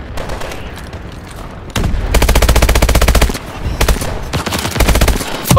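Rapid machine gun fire from a Call of Duty match, loud and close, bursts of rattling shots that grow denser and heavier partway through, continuous and dominant with no talking.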